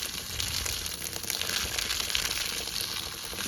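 Running water pours steadily from a tap as eggs are rinsed off, a soft continuous gush and spatter at close range with no talking.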